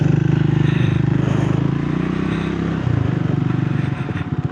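A Triumph Scrambler 350 motorcycle being ridden gives a steady, close, pulsing single-cylinder engine thrum with slight dips and rises in pace, and no talk over it.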